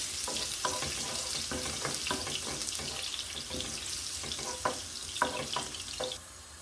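Garlic sizzles in hot oil in a pan while cooking bottle gourd greens, a steady crackling fry broken by occasional stirring scrapes, close and fairly loud with no talking.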